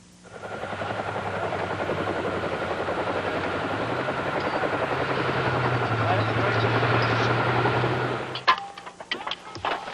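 A military helicopter flying during Canadian Forces airmobile operations, a loud steady rotor drone with a low throbbing hum that holds for about eight seconds before dropping off into scattered clicks and thumps.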